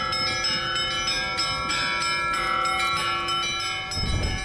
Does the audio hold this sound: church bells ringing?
yes